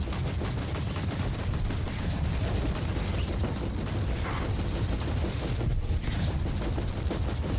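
Continuous full-auto gunfire rattles in Warhammer 40K: Inquisitor - Martyr, a dense, unbroken stream of rapid shots that stays loud and steady throughout.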